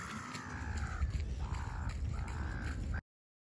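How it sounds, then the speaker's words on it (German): Loud gulls outdoors, several drawn-out harsh calls in quick succession close by, ending abruptly. "Das sind Möwen."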